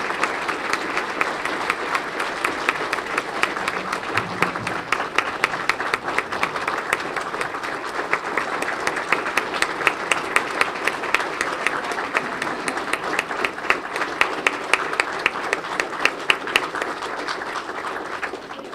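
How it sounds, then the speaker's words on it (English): Sustained applause from a seated dinner audience at a university symposium celebration, dense rapid clapping from many hands filling the room evenly for the whole stretch, with no speech over it. "Please stand so that we can give you a round of applause."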